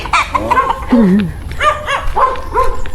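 A dog barks and yips in short, sharp bursts over about three seconds, loud and close, with a slight whimpering edge between barks.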